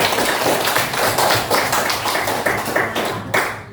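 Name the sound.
applause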